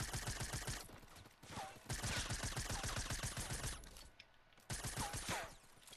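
Fortnite gunfire rattles in rapid, evenly spaced bursts. Sustained automatic volleys are broken by brief pauses, and faint mechanical clicks sit between the shots. Nobody talks.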